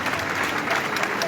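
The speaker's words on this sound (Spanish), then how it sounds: "Un fuerte aplauso." Steady applause from a crowd at a street rally protesting deaths at the Melilla border in València, broadband clapping sustained throughout at even loudness, with some voices mixed in.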